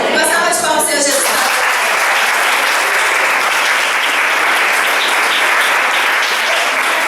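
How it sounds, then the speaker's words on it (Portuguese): Loud, dense applause from a congregation at a women's church congress fills the space after a brief burst of voice at the start and keeps going steadily to the end. "Uma salva de palmas, Senhor Jesus."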